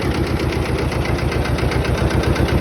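An Iseki TS2210 tractor engine runs on its hand throttle, a loud, close, steady diesel chug with an even knocking pulse throughout.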